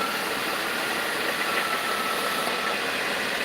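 A 2000 Dodge Caravan engine idles with a steady broadband hiss from a leaking EGR valve, an even, unbroken rush with a low engine hum underneath and no talking.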